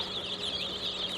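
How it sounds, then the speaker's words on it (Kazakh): Newly hatched chicks peep continuously in high, thin chirps, a soft close flock sound with no talk. "Міне, балапандар."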